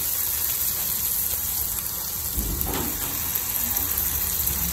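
Water poured into a pan of cooking masala for dhaniya chicken, a steady gushing hiss with sizzling underneath and a brief thicker splash partway through, close and continuous.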